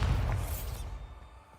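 A Bombarda spell cast in the Hogwarts Legacy video game, a short booming blast with a bright crackling burst that quickly fades, alone without talk.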